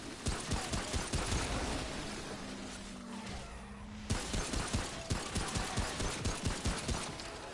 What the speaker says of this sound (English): Let's go and shoot a couple shots out here and see if we can lure these guys out to us